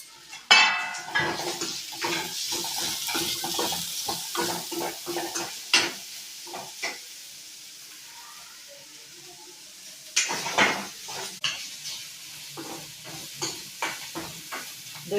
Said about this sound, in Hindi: इसे अच्छी तरह से भून लीजिए।